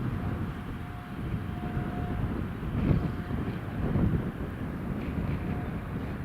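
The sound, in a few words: British Airways airliner departing from runway 25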